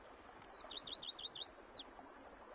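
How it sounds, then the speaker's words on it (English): Clear bird chirps in the Witcher 3 Blood and Wine countryside: a quick run of about eight rising tweets followed by a few longer, swooping calls over a soft ambient hush. "Me and you, peace and quiet. Bees buzzing, birds chirping."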